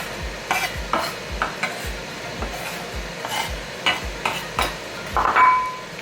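Chimichurri ingredients get worked back and forth with salt in a bowl, making a rhythmic run of scraping, swishing strokes about twice a second, fairly close and clear.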